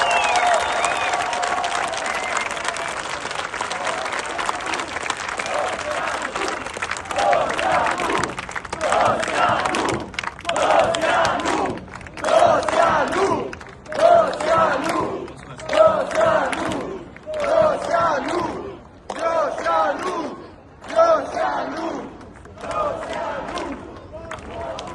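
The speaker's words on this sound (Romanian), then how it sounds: "de-aia mai merită un rând de aplauze" A crowd claps together and breaks into rhythmic chanting that swells in repeated bursts, loud and close, the applause gradually turning into a unison cheer.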